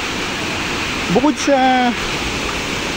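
Ditumabo Falls in San Luis, Aurora roars as a steady broadband rush of falling water, loud and continuous, while a person speaks briefly over it.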